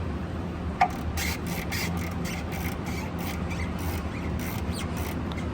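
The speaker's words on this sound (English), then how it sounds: "Sorry about that fan noise, y'all." A fan runs in a garage with a steady broadband whoosh and low hum, moderately loud and continuous, with small clicks and taps from work on a 2016 Kia on top.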